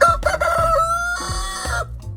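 A Blue Laced Red Wyandotte rooster crows close and loud, one strained, wavering call over about two seconds, with a rougher burst partway through and no voices.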